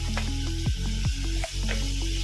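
Onions and curry leaves sizzle steadily in a pan, a close, continuous frying crackle with a few stirring scrapes and clinks layered over it.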